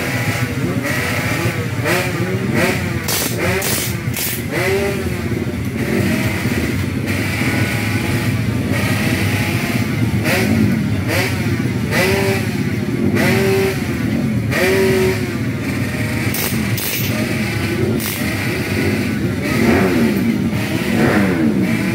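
Kawasaki X-Rider race motorcycles rev loudly in a busy racing paddock, with repeated throttle blips and rising engine whines from several nearby bikes overlapping continuously throughout.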